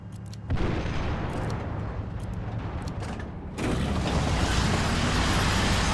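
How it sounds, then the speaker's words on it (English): A tank cannon being reloaded in the War Thunder training mission gives mechanical clanks and creaks over a dense, steady wash of in-game noise, which jumps louder about halfway through. "The gun's being loaded!"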